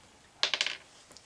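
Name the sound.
rolling a die in a quiz game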